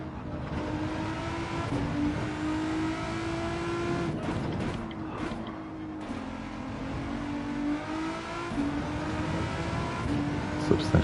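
Volkswagen GTI VGT race car engine on Deep Forest Raceway in Gran Turismo, a steady droning hum with rising and falling pitch as it accelerates through corners, continuous and close throughout.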